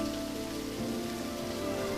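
Steady rain falls and patters on surfaces, a dense continuous hiss filling the scene with no voices.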